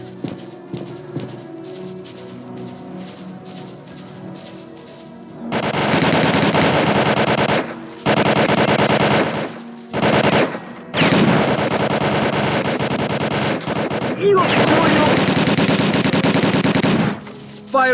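Gunfire in STALKER: Call of Pripyat on PS5, where a quieter stretch of faint clatter gives way to several loud, close bursts of rapid automatic fire separated by short pauses.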